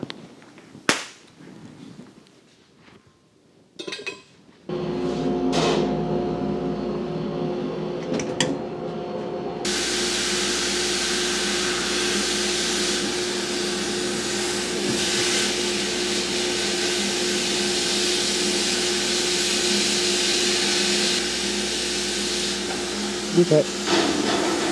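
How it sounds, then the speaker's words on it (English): A belt sander grinds the high spots off a metal panel, first several sharp short bangs and knocks, then a loud steady whirring hiss that runs on continuously, with a brief spoken word early. "Just taking off the high spots now with my belt sander."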